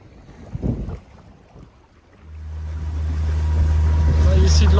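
A sailboat motoring into the wind along the Turkish coast in gusts, with a faint rustle giving way to a loud, steady low engine drone and heavy wind buffeting on the microphone.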